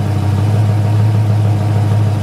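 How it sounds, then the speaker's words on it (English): A 1966 Shelby GT350 Mustang's 289 Hi-Po V8 with mechanical lifters idles steadily nearby, loud and rumbling with a raspy, even ticking texture throughout. "That raspy sound right there is a mechanical lifter 289 hypo."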